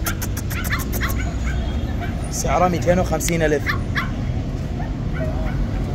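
Husky dog for sale at a Baghdad street market in Adhamiya, giving a few short yips and whimpers amid loud crowd chatter and someone talking close by.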